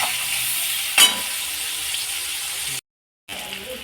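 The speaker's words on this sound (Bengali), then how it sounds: "পেঁয়াজটা একটু লাল লাল করে ভেজে নেব।" Chopped onions frying in hot oil for a giant freshwater prawn curry, a steady close sizzle with one sharp clatter early on and a brief cut to silence near the end; no one speaks.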